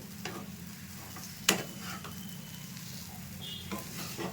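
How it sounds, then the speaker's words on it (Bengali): Semolina sweet being stirred in a kadai, a soft background sizzle with occasional light scrapes and one sharper clink of the spoon against the metal, fairly quiet and close. "অনবরত নাড়তে হবে এটাকে। দেখুন কড়াই থেকে উঠে উঠে আসছে"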